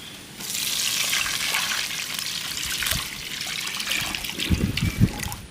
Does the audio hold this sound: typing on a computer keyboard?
no